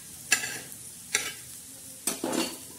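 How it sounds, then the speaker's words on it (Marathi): Whole spices (khada masala) roast in a pan for mutton curry, a soft steady sizzle broken by three scraping stirs of a spoon against the pan, close and quiet, with no talk. "खडा मसाला बी असा छान असा भाजून घ्यायचा."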